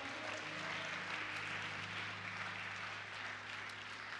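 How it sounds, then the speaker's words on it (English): A seminar audience claps along with a speaker, a faint, continuous wash of applause heard at a distance beneath a steady low hum. "Come on, give me a hand clap here, huh?"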